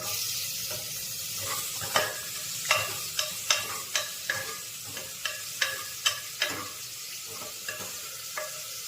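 Steady sizzling of tempering spices and kasuri methi frying in hot oil for palak mutton biryani, with a series of sharp stirring clicks and taps against the pan.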